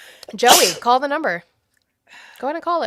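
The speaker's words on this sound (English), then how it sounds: "I sneezed." A person lets out one loud, sharp sneeze close by, and speech follows right after it.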